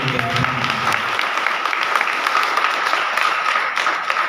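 A church congregation bursts into loud, sustained applause that fills the room, with a brief murmur of voices at the very start before the clapping takes over.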